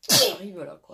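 One short, sharp sneeze close by, quickly followed by someone speaking French.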